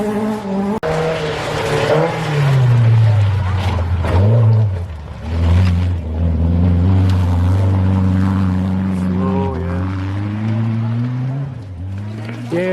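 Front-wheel-drive rally car revving hard up a hairpin hill at a snow rally stage, engine notes rising and falling with brief tire scrabble, loud and close, while spectators talk over it.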